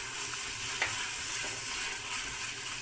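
Crushed coriander and cumin are stirred into tomatoes and onions frying in a pan for dhaba-style daal mash, giving a steady close sizzle with soft scraping strokes of the spoon.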